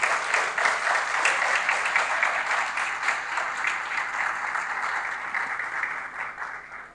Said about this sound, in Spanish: Los recibimos con un fuerte aplauso a los colegas de la ciudad de Concordia